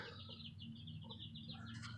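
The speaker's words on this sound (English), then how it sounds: "Chickens! In there, see? Chickens!" Chickens cluck in short, repeated calls through a steady low hum. The clucking sits close and moderately loud, continuing across the whole moment without any talk.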